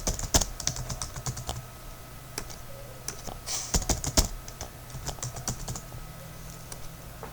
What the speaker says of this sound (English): Still I have to type the password.